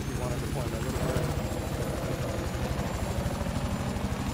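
A Little Bird helicopter in Battlefield 4 gives a steady, rapid rotor thump and engine drone that carries loudly through the whole stretch, with players talking over it.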